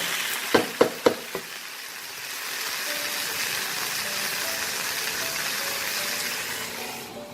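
Chicken with fried potatoes in a covered pan for methi chicken: a few sharp clinks of the lid or spoon, then a steady, even sizzle that continues under the cover.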